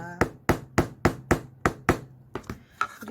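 Nails hammered into a solid wooden board for a string art LED lamp: eight sharp, evenly spaced hammer blows ringing close up, then a few lighter, irregular taps.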